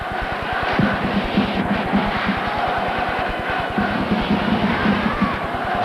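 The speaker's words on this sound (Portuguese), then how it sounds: "As torcidas não param um instante sequer. Grito, incentivo, aplaudem, criando sempre aquele ambiente de festa." Football supporters at a 1994 Japanese league stadium match, Nagoya Grampus against Jubilo Iwata, chanting and cheering in a steady roar with rhythmic clapping or drumming throughout.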